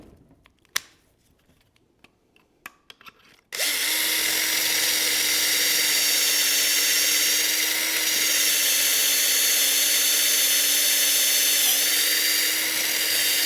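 A drill bores pocket holes through a BORA PRO compact pocket hole jig. A few quiet clicks and handling knocks come first, then a loud, steady high-pitched whine runs for about ten seconds.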